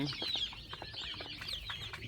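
Twenty-one-day-old and four-day-old chicks cluck and peep continuously at close range, a busy mix of short, high-pitched chirps and soft clucks with no talking.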